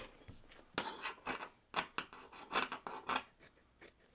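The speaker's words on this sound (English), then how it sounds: "I'm just cutting the seam off." Scissors snip through the seam of a fabric baby onesie, a series of quick, close, crisp cuts with short pauses between them.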